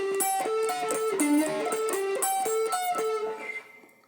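A song's intro plays on a Fender Stratocaster's neck pickup, alone. A clean, bright, steady picked melody repeats its looping pattern, then a final note rings out and fades.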